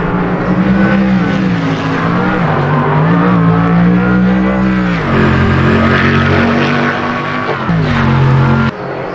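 Race cars roaring past in an online sim racing event at Oulton Park, a loud, continuous engine drone with shifting pitch as the cars accelerate and change gear, close and dominant, no talking.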